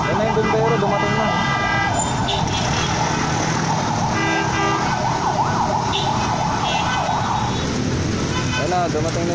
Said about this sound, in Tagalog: Yan na, dumating na yung bumbero.